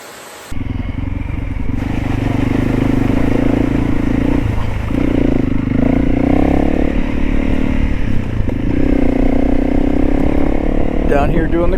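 Adventure motorcycle rumbling steadily close by through creek crossings on a dirt backcountry route, its engine note rising and falling with water and gravel clatter.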